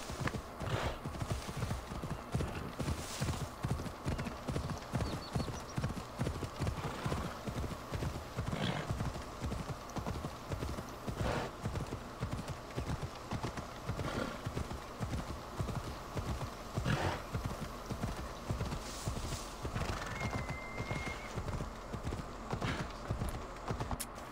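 Horse hooves clip-clop steadily at a brisk riding pace in Assassin's Creed Odyssey, a continuous rhythmic drumming under ambient game sound, with an occasional faint whinny.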